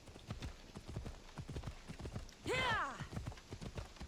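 Horse hooves clip-clop in a steady rhythm inside a video game, and a short whinny rises over the footfalls midway through.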